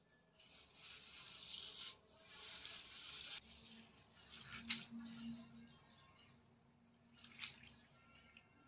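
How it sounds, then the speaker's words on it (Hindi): Flattened rice (poha) being rinsed in a bowl of water, with splashing, sloshing and rubbing in bursts, close and fairly quiet, plus a few soft clinks and drips. "इस पोहे को हम धो लेंगे फ्रेंड्स"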